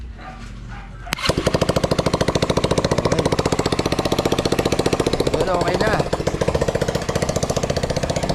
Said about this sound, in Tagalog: At ngayon naandar na mga welder na.